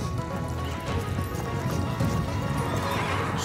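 Horses in a mountain pasture whinny while hooves clip-clop across the ground, a busy herd sound of steady hoof beats and neighs with faint voices underneath.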